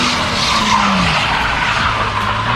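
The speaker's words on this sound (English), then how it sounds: "He's drifting, dude." A drifting car's tires skid and squeal continuously and loudly, with the engine's pitch sliding down underneath the broad, harsh tire noise, and no voices.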